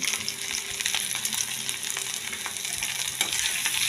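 Potatoes and a paste of cumin, turmeric, salt, chili powder and green chilies fry in a pan for a lentil-fritter curry, giving a continuous hissing sizzle with occasional stirring scrapes, steady and close with no voices.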